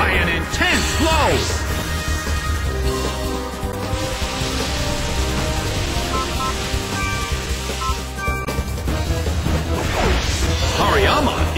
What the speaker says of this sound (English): Hit by Brick Break! Taken down by an intense blow!